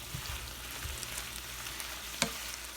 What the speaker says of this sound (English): right now I'm just heating up this roast beef